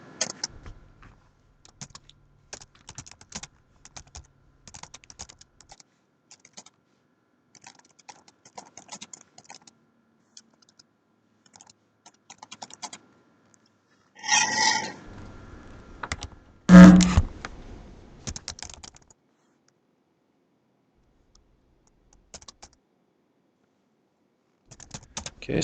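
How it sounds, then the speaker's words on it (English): Typing on a computer keyboard for a Python script, with quiet scattered keystrokes in bursts, then a louder cluster of clacks and a firm key press near the middle before the typing quiets again. "we're going to go ahead and type this in"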